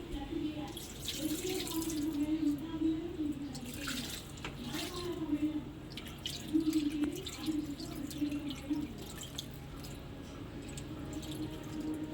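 Water is poured from a pipe onto a plant's soil, giving a soft, continuous splashing and trickling that stays faint and steady throughout, with someone talking quietly over it.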